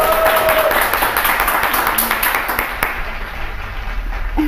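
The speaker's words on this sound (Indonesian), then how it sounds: "Oke, tepuk tangan dulu dong buat Kak Johannes." An audience at a festival event applauds for a guest, a loud burst of crowd clapping that gradually thins out, with a few faint tones and background noise mixed in.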